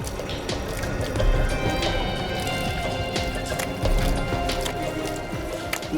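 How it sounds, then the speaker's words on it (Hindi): Water gushes steadily from an open tap as a blocked washbasin pipe overflows, a continuous close splashing wash with a few brief thumps. "पानी का नल खुला है।"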